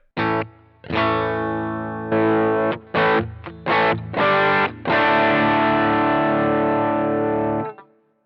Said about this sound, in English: I'll strum a chord again.